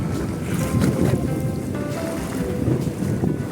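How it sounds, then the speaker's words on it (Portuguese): Choppy water on a branch of the Amazon River slapping under a moving boat, with a constant rushing, sloshing wash and heavy wind noise buffeting the microphone, loud and close. "aqui a água tá bem agitada"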